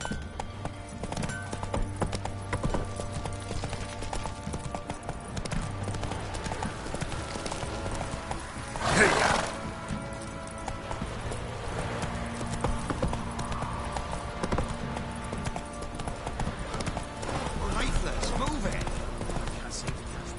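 Horse hooves clip-clop steadily through a PS4 video game scene, a continuous rhythmic patter at moderate distance running under game music and character voices, with a brief louder burst midway.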